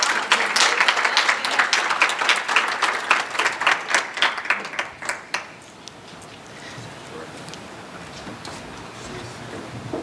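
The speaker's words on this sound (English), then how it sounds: "Let's give them a round of applause." Audience applause for a panel at a GlobalMindED event at the United Nations, dense clapping for about five seconds that thins into scattered claps and fades into room noise.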